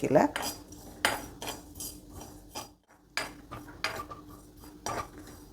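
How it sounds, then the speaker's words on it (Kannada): Cumin seeds dry roasting in a pan without oil, stirred with a utensil that scrapes and clinks against the metal in irregular bursts, close and fairly quiet, with no talk. "ಜೀರಿಗೆ ಒಂದು ಟೀ ಸ್ಪೂನಷ್ಟು ಜೀರಿಗೆನ ಹುರ್ಕೊಳ್ತಾ ಇದ್ದೀನಿ ಡ್ರೈ ರೋಸ್ಟ್ ಮಾಡಬೇಕು"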